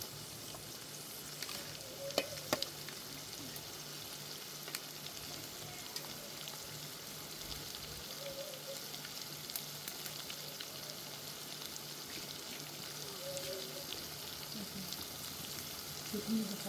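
Steady, soft sizzling of peppers and garlic frying in a pot, a continuous crackle with occasional small pops, no talking.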